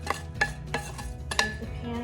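A seared ham goes down into the bottom of a crockpot, making a few close clunks and scrapes of meat against the ceramic pot over two seconds, with no talk.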